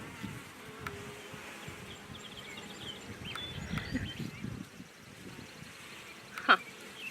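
Bees at an opened hive hum faintly in a low, steady drone, with soft handling noises and a sharp brief knock near the end.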